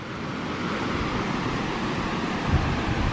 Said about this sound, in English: Next to this creek